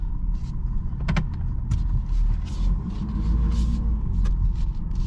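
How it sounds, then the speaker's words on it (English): A 2022 Ford 6.7 Powerstroke diesel with a Banks Ram Air intake gives a low, steady rumble and growl on light throttle, with a few brief mechanical clicks over the drone. "I can hear that growl instantly, just on a tiny little bit of throttle."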